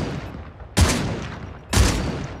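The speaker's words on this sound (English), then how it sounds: "Chat, this shotgun was shooting like this." A video game shotgun fires two heavy, booming blasts about a second apart, each with a sharp attack and a long rumbling decay, close and loud with no talk.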